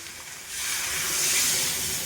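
Water poured into a hot pan of frying soybean curry bursts into a loud, broad steaming hiss about halfway through, swelling and holding steady to the end with no talk over it.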